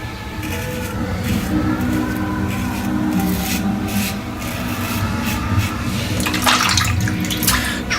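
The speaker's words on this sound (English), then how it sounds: "It's rinsing off in the water perfectly." A Gillette razor with a new blade being rinsed under running water at a sink, a steady close rush of flowing water with scraping and tapping as the razor is swished, and a television murmuring faintly in the background.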